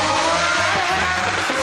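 Pagani Zonda R hypercar with its Mercedes M120 AMG V12 engine, making 750 horsepower and revving to 7,500 RPM, roars loudly and steadily throughout a short burst, sounding close and continuous.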